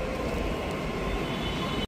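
A metro train arriving at a station, heard as a loud, steady low rumble and roar that holds evenly throughout and cuts off sharply at the end, with no speech over it.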